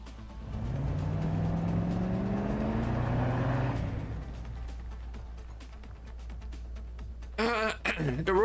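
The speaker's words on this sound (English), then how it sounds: "The roaring sound of an engine grows ever closer, quickly followed by a jeep" A jeep engine in the Girls Frontline 2 game, a loud low roar that rises in pitch as it draws near and then fades off, followed by a brief voice at the end.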